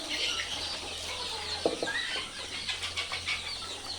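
Sonali chickens on a farm cluck and chatter in a continuous flock murmur, with a few sharper calls and a short flap close by, and soft barn noise beneath.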